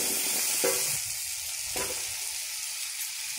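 Banana stem pieces sizzle and fry in a hot pan, a steady close hiss with a couple of brief stirring scrapes, no voices.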